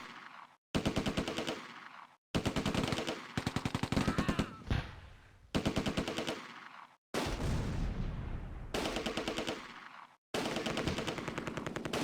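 Repeated bursts of machine gun fire in the WWII strategy game Close Combat: A Bridge Too Far, set at the Groesbeek landing zone during Operation Market Garden, loud rattling volleys broken by short silent gaps, with deeper booms mixed in.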